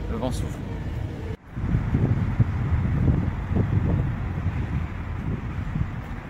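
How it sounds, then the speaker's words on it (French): Strong wind in Avignon, France buffets the microphone with a low, gusty roar, while a person talks underneath it. "ici à Avignon on ressent pas mal de vent"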